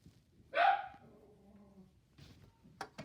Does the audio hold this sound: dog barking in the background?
yes